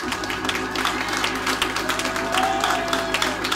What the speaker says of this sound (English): Somebody clap your hands right there.